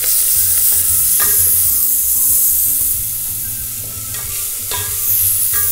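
Onions fry in hot oil for a creamy soup, giving a loud, close, continuous sizzle broken by occasional scraping stir strokes.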